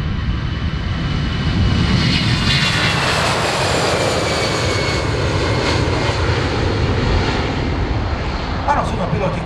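A Slovak Government Airbus A319 jet at an air festival, its engines roaring steadily and loudly throughout, a broad continuous rush that swells slightly, with faint crowd and voice sounds mixed underneath.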